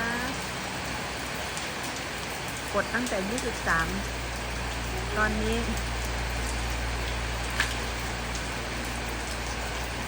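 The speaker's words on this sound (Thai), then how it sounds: "ตอนนี้ ฝนตกค่ะบ้านใครฝนตกบ้างคะ" Steady rain hisses and patters continuously throughout, while someone speaks briefly over it.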